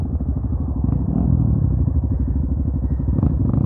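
A motorcycle engine thrums with a fast, steady low pulse while riding through a muddy, dense forest trail, close and loud throughout with occasional clattering knocks from the rough ground.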